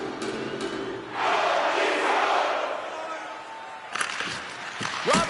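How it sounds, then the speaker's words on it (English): Arena crowd roaring steadily at a tied game in an EA Sports NHL hockey video game, a broad sustained cheer swelling after the first second, with a few sharp thuds and bursts near the end. "You can feel the energy in this crowd."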